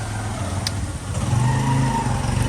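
A motorcycle engine rumbles and idles nearby, a steady low drone that rises slightly partway through, heard outdoors without talking.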